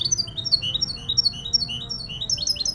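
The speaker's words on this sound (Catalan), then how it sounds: "Aquest ocell canta molt bé." A goldfinch sings clear, rapid high chirps and twittering trills close by, over a soft low background rumble.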